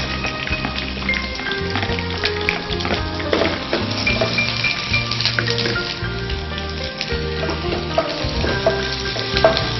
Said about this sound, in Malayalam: ചൂടായ നെയ്യിലേക്ക് നമുക്ക് ഉള്ളിയിടാം.